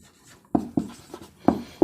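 Someone writes on a classroom board during a physics lesson, making about five sharp, separate strokes and taps that come close and fairly loud in an uneven rhythm, with no talking.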